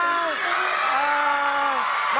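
Studio audience at an Indonesian TV talk show shouts and whoops in a loud, sustained burst of screaming and cheering that fills the whole stretch.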